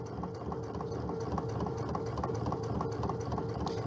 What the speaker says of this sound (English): So I'm going to just stitch down this line.